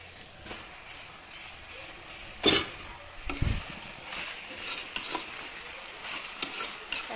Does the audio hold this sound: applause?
no